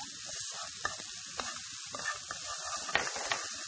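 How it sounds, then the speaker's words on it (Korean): Chopped pre-cooked shrimp and squid stir-frying in a large frying pan over lowered heat, giving a steady close sizzle with scattered scraping clicks from stirring. "새우랑 오징어는 다 익혀서 다진 거기 때문에 이렇게 살짝만 좀 볶아주시고요"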